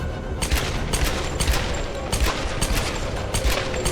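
Sustained rapid gunfire from Lara's two guns in Tomb Raider 2013, a loud, dense fusillade of overlapping shots with steady bursts throughout and no voices.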